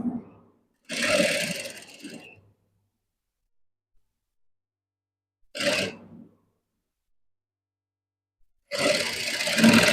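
A sewing machine stitches a colored blouse in three separate bursts of rapid, whirring mechanical chatter, close and loud, with near silence between the runs.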